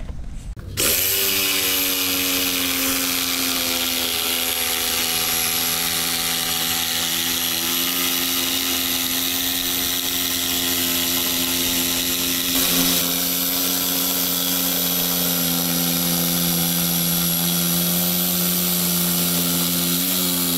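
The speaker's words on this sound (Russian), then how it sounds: "Сегодня Сашко, кажись, освоил электролобз" An electric jigsaw runs steadily and loudly for the whole stretch, a sustained high whine with a strong tonal hum, starting abruptly after a brief moment and continuing without pause.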